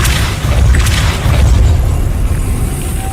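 Depulso spell blast in Hogwarts Legacy on PS4 Pro, a loud booming rumble that swells and holds for a few seconds, close and heavy, with no voices.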